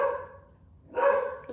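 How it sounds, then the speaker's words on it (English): Dogs at a window give two barks, one at the start and another about a second later, close and fairly loud with a short silent gap between, and no other sound or talk. "my dogs just love to look out the window and bark at them"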